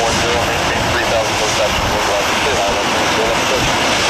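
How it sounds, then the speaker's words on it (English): A Global Crossing Airbus A321 jet in special livery, inbound from Atlanta on an Ohio State University charter, makes a steady, loud, broad roar that holds evenly throughout. "It's a special livery A321 inbound from Atlanta."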